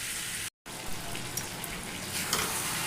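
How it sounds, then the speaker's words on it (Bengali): Mutton curry sizzles and fries in a pan, a steady broadband crackle held at an even level throughout, broken by one abrupt moment of silence near the start. "ঢাকা দিয়ে এবার আমি ভালো করে কষিয়ে নেব তরকারি।"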